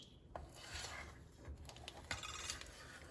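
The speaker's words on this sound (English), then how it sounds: "you just take your butter knife and run it along the edge" A butter knife scrapes around the edge of a springform pan holding a homemade pumpkin cheesecake, giving quiet close rubbing and rasping strokes with faint metallic scrapes.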